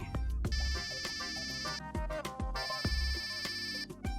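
A mobile phone ringtone plays a bright, looping electronic melody with a steady beat in a Bhojpuri film scene, heard clearly and alone, repeating twice.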